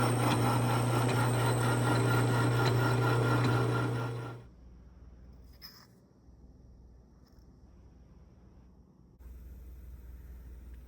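A South Bend lathe turns down a length of 1-inch outside-diameter steel pipe, giving a loud, steady, tonal machining whine with broadband noise for about four seconds. It then cuts off abruptly, leaving low room hum and faint clicks.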